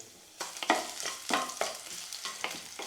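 Carrots with crushed unpeeled garlic sauté in a pan, heard as a close sizzle with rhythmic scraping and stirring strokes after a quiet start.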